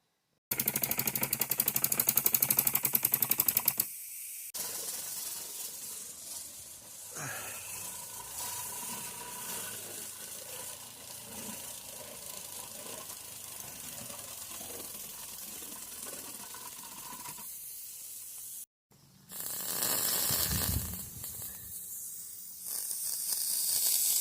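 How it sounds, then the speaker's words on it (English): A live steam garden railway model locomotive runs on its track under its own steam, giving a continuous hiss and chuff that swells and fades, with louder bursts of escaping steam near the start and end. "that's Ellie actually running under its own power on steam"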